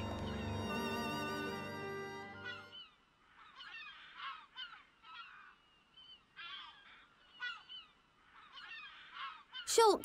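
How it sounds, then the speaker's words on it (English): In the Xenoblade Chronicles video game, a long low tone gives way to a string of nasal, goose-like honks repeating in irregular bursts, fairly faint and without talk. "There's a lot of birds around here."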